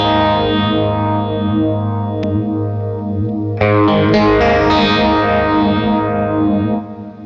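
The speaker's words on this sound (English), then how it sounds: "you can quite clearly hear how it jumped in the amount of depth you had between 4 and 6 stage" A Walrus Audio Lillian phaser pedal in 6-stage mode colors a guitar, sustained chords swirling with a deep, sweeping phase; a fresh strum near the middle rings louder before fading out at the end, with no talk.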